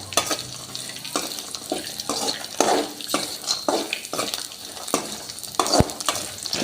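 Peanuts roast in a pan for chutney, stirred repeatedly with rhythmic scraping and rattling strokes over a light dry sizzle, close and clear.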